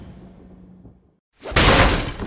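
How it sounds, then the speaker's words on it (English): Crashing entrance effect from WET: a fading low rumble, a moment of silence, then a sudden loud burst of shattering glass and debris that sustains to the end. "VIP crashing entrance.mp3."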